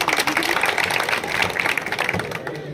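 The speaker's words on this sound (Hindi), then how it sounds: "जोरदार तालियां।" Crowd applause at a fire brigade demonstration of gas leakage safety measures, a dense, steady wash of clapping that fills the whole stretch without pause.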